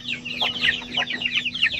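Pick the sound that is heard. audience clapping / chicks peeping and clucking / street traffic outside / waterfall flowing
chicks peeping and clucking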